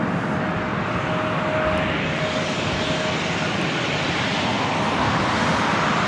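An airliner departing LAX, a loud, continuous jet engine roar that rises slightly toward the end as it climbs out, heard alone with no voices.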